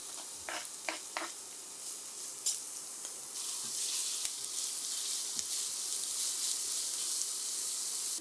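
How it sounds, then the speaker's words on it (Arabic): Chopped onion sizzling in a little oil in a frying pan on the stove, a steady close hiss that swells louder partway through, with a few soft stirring taps early on. "وبمقلاية على النار حطيت شوية زيت، وعندي بصلة مفرومة بدي أقلبها لحتى تدبل معي."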